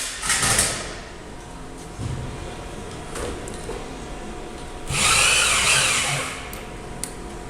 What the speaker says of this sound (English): I got to counter drill it a little bit for this pilot on this